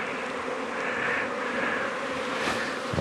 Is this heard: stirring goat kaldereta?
no